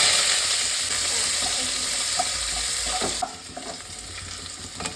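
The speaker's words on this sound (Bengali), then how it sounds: "আলুগুলো একটু ভেজে নিচ্ছি, ভাজা হোক" Potatoes fry in hot oil with five-spice tempering in a pan, giving a loud close sizzle that drops abruptly to a quieter crackle with scattered stirring clicks partway through.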